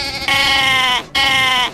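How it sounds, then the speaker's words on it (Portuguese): A goat gives two loud, strongly tonal, wavering bleats in quick succession, close and clear, with no talking. "Cabra."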